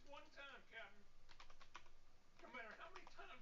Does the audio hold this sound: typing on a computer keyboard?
yes